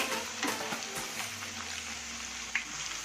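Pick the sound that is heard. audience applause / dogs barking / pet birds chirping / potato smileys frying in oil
potato smileys frying in oil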